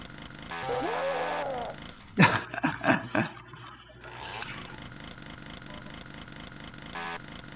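Dog-like growls and snarls from a creature in the video game Doom rise in a short burst over a droning, buzzing game background.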